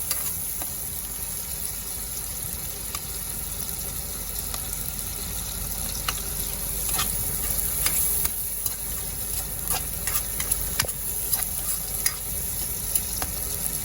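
Tomatoes fry in a pan with a steady, continuous hiss and sizzle, broken by frequent small clicks and scrapes from stirring, close and fairly loud throughout.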